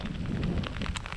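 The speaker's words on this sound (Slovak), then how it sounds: "Sú počuli aj hromy" Rain pouring outdoors with a low rumble of thunder beneath it on a cold mountain road, a dense steady wash of drops with a deep roll underneath, no talking.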